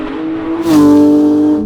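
A Porsche 991.2 GT3 engine revs hard, its steady tone surging sharply upward and then holding at a loud, sustained high pitch, with no talking.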